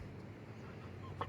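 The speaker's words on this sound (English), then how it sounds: "there's all kinds of birds making weird sounds" Birds calling near a road, with one short, bright call near the end standing out over a steady, low outdoor rumble.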